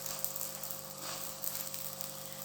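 Msemen dough fries in a shallow layer of oil in a pan, giving off a steady, close crackling sizzle with small pops and a faint background hum.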